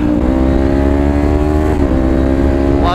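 A Kawasaki Ninja 250 FI motorcycle engine with quick shifter holds a steady, loud drone, then briefly dips and climbs again as it revs up near the end.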